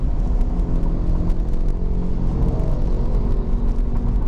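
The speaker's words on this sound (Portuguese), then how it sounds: "Vou acelerar ele agora para você sentir." Ford Ka Sedan with a 1.5 engine and automatic transmission accelerating, a steady low engine drone and whir heard from inside the car, continuous and fairly loud with no talking.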